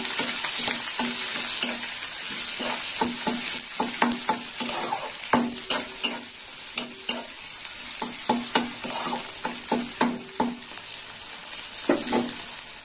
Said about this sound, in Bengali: পেঁয়াজটা একটু লাল লাল করে ভাজা হবে